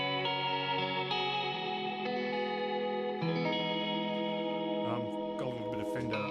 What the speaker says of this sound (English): a little bit of Fender delay in there, and the reverb, also foot switchable, is on as well.